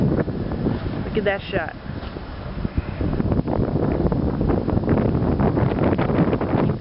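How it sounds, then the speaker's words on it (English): Cold wind blowing outdoors, with steady loud buffeting and rumble against the microphone throughout, and a voice speaking briefly over it. "Can you feel that wind?"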